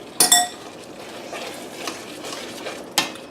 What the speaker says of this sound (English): you're going to take a spoon and stir it around here